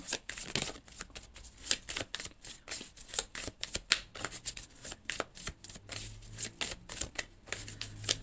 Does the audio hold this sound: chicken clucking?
no